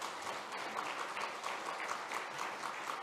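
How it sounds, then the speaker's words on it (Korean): A Korean church congregation applauds its choir during a Sunday worship service, a soft, steady patter of many hands clapping heard at some distance for about three seconds. "우리 한번 우리 찬양대 박수해 주시기 바랍니다"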